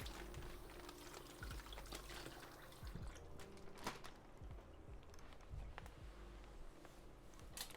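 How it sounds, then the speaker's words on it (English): Running water pours and trickles steadily while a plastic bag is rinsed in a kitchen sink, with occasional rustles and knocks over the continuous flow. "I had to rinse the bag off."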